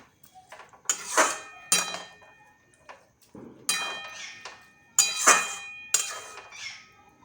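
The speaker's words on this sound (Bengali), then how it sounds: "চার চামচ চিনি দিলাম ভালো করে নাড়াচাড়া করে নিলাম" A spoon stirs sugar into a tomato and jujube chutney in a pot, making bursts of metallic clinks and scrapes against the pot in an uneven rhythm, with quiet gaps between strokes.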